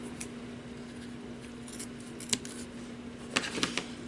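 Scissors cut paper for a candy box, quiet snips and rustles over a steady low hum, with a few sharper clicks clustered toward the end.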